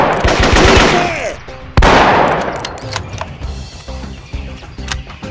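Heavy automatic gunfire in the PC shooter Marine Sharpshooter 2, sustained loud bursts at the start, then a sharp blast followed by scattered shots and echoing reports.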